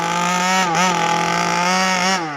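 A rebuilt 36cc engine in a Baja RC car screams at high revs, a buzzy two-stroke whine that dips briefly then climbs again, loud and close with no talking.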